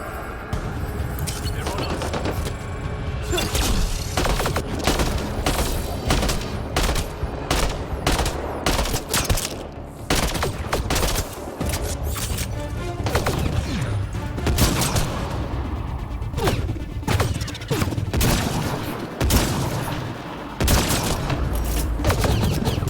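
Dense, continuous gunfire from the video game Mass Effect Andromeda, with rapid automatic bursts and heavy impacts that stay loud and close for the whole stretch, leaving barely a pause between volleys.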